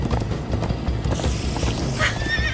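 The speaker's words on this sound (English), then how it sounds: "Come on, horses!" Horses galloping with clip-clop hoofbeats and a sharp neigh midway in the Minecraft Story Mode video game, a busy, continuous chase mix with loud rumbling underneath.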